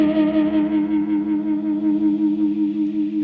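Electric guitar sustaining a chord through a Roto Choir Leslie simulator pedal, with a steady rotary-speaker warble pulsing in even waves, moderately loud and alone.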